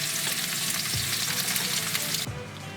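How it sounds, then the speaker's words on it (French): Beef fillet sauce in a pan gives a lively, close bubbling sizzle with a couple of soft knocks, then drops abruptly to a quieter, muffled simmer near the end. "On va le laisser mijoter une dizaine de minutes"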